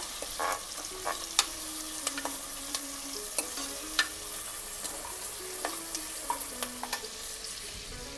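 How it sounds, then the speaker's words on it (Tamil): Onion and spices tempering in hot oil in a pan for Mutton Nonbu Kanji, a soft continuous sizzle broken by frequent scraping stirs of the spatula, close and fairly quiet, with no talking. "பச்சை கலரும் பச்சை வாசனையும் போகிற அளவுக்கு நல்லா தாளிச்சிக்கோங்க."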